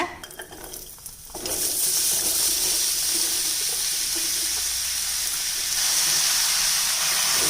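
Chopped vegetables hit hot oil with a sudden loud sizzle that continues as a steady, close frying hiss, with a faint clink of utensils, while cooking a kootu.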